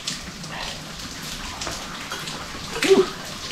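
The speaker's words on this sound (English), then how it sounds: "let me get out of the rain here" Steady rain falls outside a garage, a soft continuous hiss of drops with a brief louder spatter near the end, heard alone without talk.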